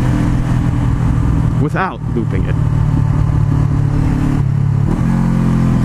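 A Honda CBR500R motorcycle engine runs loud and close, with a quick rev blip as it downshifts, then steady engine drone with another shift; a voice speaks briefly over it.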